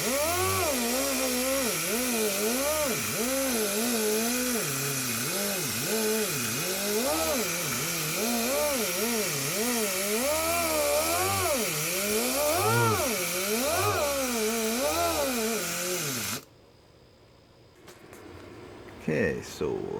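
Polisher spinning a white pad with finer compound across GMC Sierra truck paint, a loud steady motor drone that rises and falls in pitch as pressure changes, running for about sixteen seconds before cutting off abruptly into quiet handling noise.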